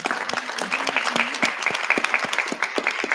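A room full of people claps steadily, a dense patter of hands that stays even throughout.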